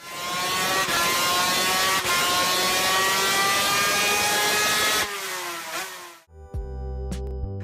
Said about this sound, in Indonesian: motor ini memiliki suara yang paling merdu di antara mesin 2 tak manapun di dunia